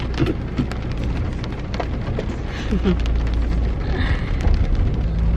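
Steady rain patters and drums on a surface nearby in the UK, a constant wash of drops with a low rumble underneath.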